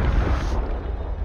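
A powder keg blowing up in the pirate game Sea of Thieves, a loud deep boom that decays into a rumbling tail within about a second.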